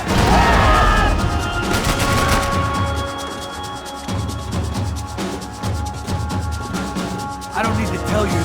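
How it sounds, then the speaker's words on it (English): Dense gunfire rattles in Max Payne 3, with rapid bursts, crashing impacts and bullets whizzing by, loud and close, while voices talk over the barrage. "I can't concentrate with bullets whizzing past my head!"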